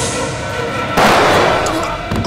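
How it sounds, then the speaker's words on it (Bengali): A gunshot sound effect from a crime television drama: one sharp, loud blast bursts out midway over steady background noise and rings on briefly. "গুলির আওয়াজ।"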